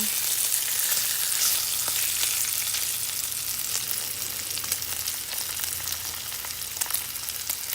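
Ham sizzles steadily in a hot skillet, a dense crackling hiss with scattered pops and a faint low hum underneath, no talking.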